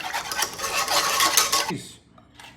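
A utensil stirs a milk or cream mixture in a pot, making close scraping and clinking against the metal for a couple of seconds before it stops.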